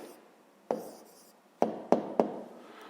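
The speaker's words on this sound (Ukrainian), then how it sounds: "Ну що ж, записуємо відповідь." A pen writes a math answer on paper in a quiet room, with soft scratching strokes broken by several sharp taps against the desk, close up, with no talking.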